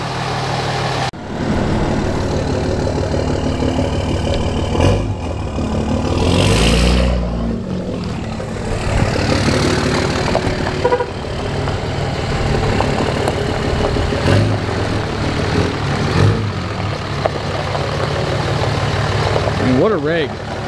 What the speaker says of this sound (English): if you have a Cummins, you gotta have a straight pipe on it